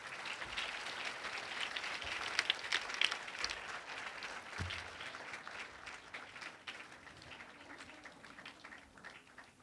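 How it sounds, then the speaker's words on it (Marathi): Applause at a school annual gathering, a large audience clapping steadily and evenly for the whole stretch, heard from within the hall at moderate loudness. "या सगळ्यांसाठीच आपण जोरदार टाळ्या वाजवूया."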